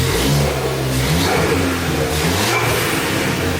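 A Ford Fiesta ST engine fitted with a blow-off valve revs up and down steadily to around 2,000 to 3,000 rpm, a close, loud, throaty rumble with rising and falling pitch and no talking.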